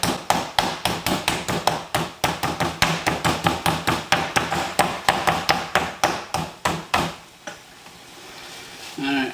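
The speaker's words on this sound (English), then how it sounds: "Now I'm going to use the flat side of my meat hammer." A meat hammer, flat side, pounds a chicken breast thin on a cutting board, over thirty quick, sharp, evenly spaced strikes up close, then a brief pause before a softer sound at the end.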